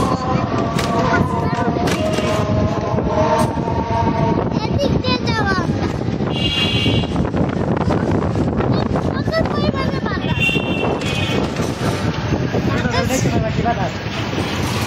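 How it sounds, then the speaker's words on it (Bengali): Strong wind beside a river roars and buffets the microphone without pause, with faint voices and a passing siren-like tone underneath. "অনেক বাতাস আজকে গাইস।"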